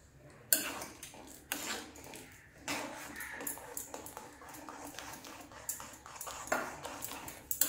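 Egg stirred into simmering soup in a pot, with a quiet background and repeated light clinks and scrapes of a spoon against the metal pot.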